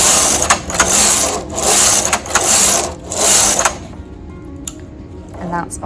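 A knitting machine carriage knitting rows, sweeping back and forth in several rhythmic mechanical swishes with ratcheting clicks, then falling quieter with a few small clicks; a voice speaks over part of it.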